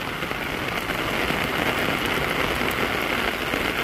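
Steady, dense rain pours at the 11th-century Brahmeshwara temple in Bhubaneswar, a continuous close hiss of drops on hard surfaces that holds an even loudness throughout with no voices.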